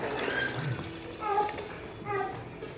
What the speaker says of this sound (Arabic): ديروا الماء السخون